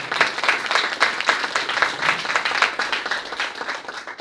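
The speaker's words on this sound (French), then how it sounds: "Donc si vous voulez bien applaudir à cette étape-là." Applause from an audience at a school presentation about a redesigned college courtyard, a crowd of hands clapping in a loose pulsing rhythm, moderately loud and unbroken for a few seconds.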